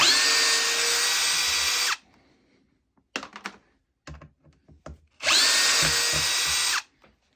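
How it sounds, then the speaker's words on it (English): A 12V multi-chuck cordless drill driver backs out two screws: two sustained whirring runs of about two seconds each, with scattered clicks and handling knocks in the pause between them. "Okay, so I'm going to back out these 2 screws."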